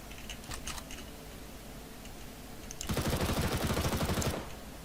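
Loud, dense automatic gunfire from Counter-Strike: Global Offensive rattles for about a second and a half after quieter scattered shots and clicks, with no talking over it.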